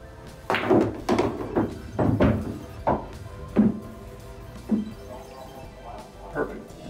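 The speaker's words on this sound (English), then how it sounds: "So I'm going to hop the cue ball a little bit, go forward just a little bit, and try to draw back in between" Cue stick strikes on a pool table during an eight-ball skill shot, the cue elevated to hop the cue ball: a series of sharp wooden knocks and thuds, some paired, spaced irregularly at close range in a quiet room.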